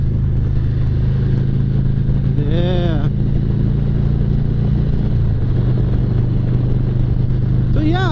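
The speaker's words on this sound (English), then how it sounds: "I just want to hear this exhaust roar" A 2022 Road Glide motorcycle with Cobra exhaust pipes rumbles and revs close by, a deep continuous exhaust drone with brief rising whines, while someone speaks briefly.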